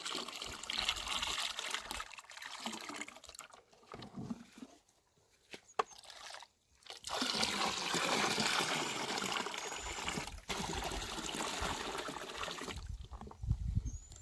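Water-soluble fertilizer solution for Yelakki banana plants splashes and trickles steadily into a bucket, close and fairly loud, with a few brief pauses between pours.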